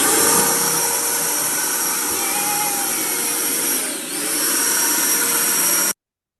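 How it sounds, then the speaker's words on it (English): Leaf blower, switched on through a head switch and power link, runs with a loud, steady rushing whine that dips briefly midway and then cuts off abruptly. "the switch, the head switch, leading to a power link, leading into the leaf blower that bridged his ability to the activity"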